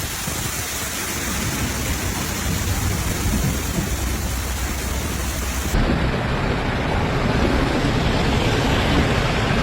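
A severe storm over Romania's flooded towns brings a steady roar of heavy rain with deep rumbling thunder throughout, loud and continuous, with no voices.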